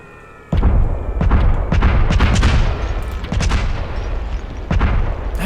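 Video-game bombs explode in heavy, booming bursts, one after another in a fast barrage after a brief quiet opening, loud and close with rumbling low end and no voices.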